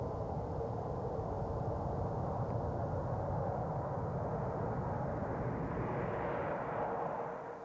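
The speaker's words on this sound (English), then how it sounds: "see and hear the planes take off right over your head" Jet airliners take off low overhead at Washington National Airport, a loud continuous roar that swells and holds steady for several seconds, with no voices.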